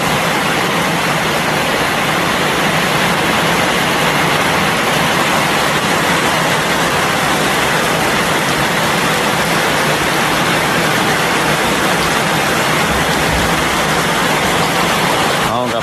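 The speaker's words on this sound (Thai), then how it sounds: "ก็มื้อนี้แหละพี่น้อยมีฝนตกมา" Rain falls steadily at a rural home after a long hot spell, a broad continuous hiss that is loud and unchanging throughout, with a voice apparently speaking underneath.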